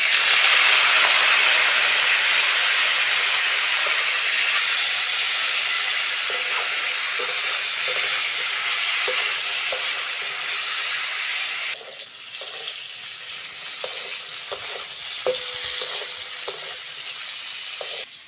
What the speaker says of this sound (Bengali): এইবার ফুলকপিটা দিয়ে ভেজে নেবো ভালো করে